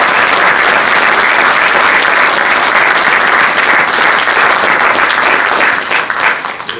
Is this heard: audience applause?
yes